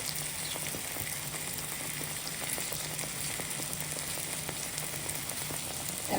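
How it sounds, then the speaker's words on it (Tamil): Tomatoes sautéing in masala for a mutton ball curry give a steady, close sizzle with scattered small pops and crackles, continuing evenly throughout with no talking. "தக்காளி சேர்ந்து வதங்கட்டும்."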